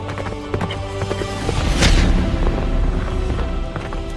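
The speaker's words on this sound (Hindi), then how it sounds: "ये बड़े ट्रूपर घोड़े हैं जिन्हें राइड करना आसान नहीं है।" Large trooper horses of the President's Bodyguard gallop, hooves pounding in a rapid rumbling rhythm that swells to a loud, close peak midway and then carries on.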